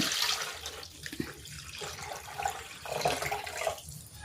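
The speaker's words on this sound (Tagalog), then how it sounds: "Lagyan ko ng tubig." Water runs and splashes steadily into a pot holding chicken breast, a broad hissing pour with small clinks, fairly close and without talk.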